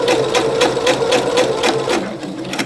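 A Pfaff Creative 3.0 sewing machine stitching in reverse, running steadily and close with a fast, even needle rhythm over a constant motor whine, slowing slightly toward the end.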